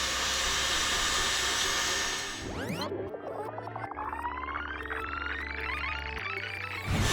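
Electric mixer whipping egg whites for meringue as the speed is gradually raised, a steady loud whirring drone that shifts pitch partway through and keeps running alone without talk.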